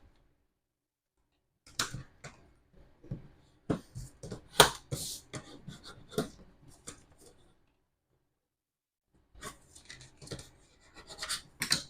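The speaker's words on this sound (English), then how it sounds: "Press the tape down." Tape pressed and rubbed down onto patterned scrapbook paper while assembling a farm-themed mini album, giving close, dry scratchy rubs and soft taps in short bursts with a quiet pause in the middle.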